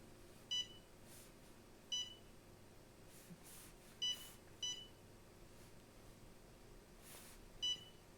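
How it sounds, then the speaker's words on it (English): A Wanhao Duplicator i3 3D printer gives short, faint electronic beeps at irregular intervals, about six in all, each a single clean tone over a low background hum. "Can you silence the beeps?"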